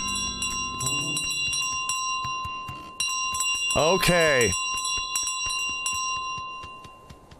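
Bell carried by the goose in Untitled Goose Game, with bright metallic rings and jingles ringing repeatedly over game music, plus a brief honk-like burst in the middle and a short spoken word.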